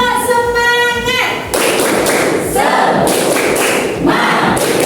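A group in a classroom does the "tepuk semangat" rhythmic clapping cheer: a sharp burst of hand claps and thumps, close and loud, after a voice at the start, then talking and shouting over the clapping.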